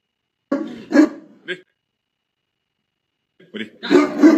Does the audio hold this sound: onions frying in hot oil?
no